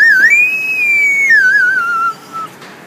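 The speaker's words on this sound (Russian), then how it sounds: "Свисток. Тайский свисток" A Thai whistle blown in one long, clear, warbling tone that bends up and down in pitch, loud and close, before cutting off with a brief quieter blip after it.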